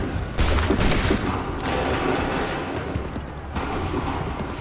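A musket volley from a line of soldiers in Assassin's Creed 3 makes a dense, continuous roar of many shots blended together, loud and close throughout.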